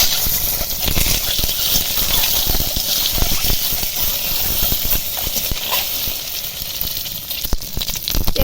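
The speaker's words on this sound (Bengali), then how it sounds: "তেলের মধ্যে ডিম দিয়ে ডিমগুলো ভেজে নেবো" Loud, continuous sizzling hiss of eggs frying in hot oil in a kadai, close up, with scattered pops and crackles throughout.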